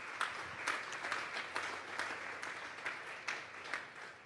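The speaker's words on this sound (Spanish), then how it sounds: "Vamos a darle un fuerte aplauso pues al Señor esta tarde." Congregation applauding during a Sunday church service, a steady wash of many hands clapping at moderate distance with no voices over it.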